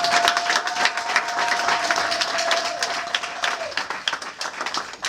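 Congregation applauding to acclaim Jesus at a wedding blessing, sustained rhythmic clapping of a sizeable crowd, with a steady tone beneath for several seconds.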